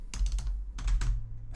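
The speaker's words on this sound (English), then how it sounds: "So let's type this in here." Computer keyboard typing while naming something in a Minecraft game: a few quick, close bursts of clattering keystrokes separated by short pauses.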